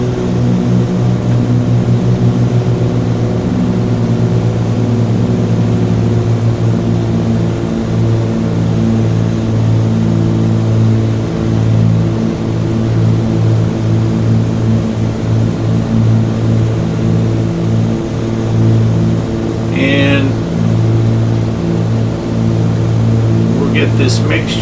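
Twin piston engines of a Cessna 414AW in Flight Sim 2020 drone steadily at high power, a loud, constant harmonic hum, with a brief brighter burst near the end and a voice faintly present.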